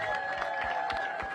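Scattered audience applause greets Keith Anderson, Deputy Mayor for Planning and Economic Development, at a city announcement event, brief and moderately loud with a steady electronic tone from the room's sound system underneath.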